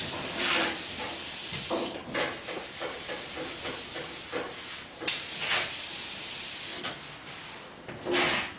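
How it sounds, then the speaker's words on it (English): Repeated short hissing bursts of a spray bottle of cleaner onto a surface, several in quick succession, mixed with rubbing and wiping noises close by. "Spray it, wipe it, and you can watch it evaporate."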